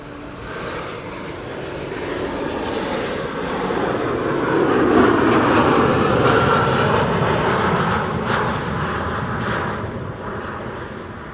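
An airliner on final approach into Amsterdam Schiphol Airport, arriving from Norwich on a hazy day, its jet engines swelling to a loud, broad roar as it passes close overhead, then fading away.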